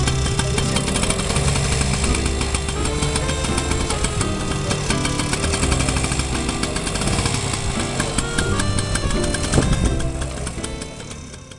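Engine of a Flying Flea military motorcycle running loud and close, a dense continuous idle with a brief throttle rise toward the end before it settles.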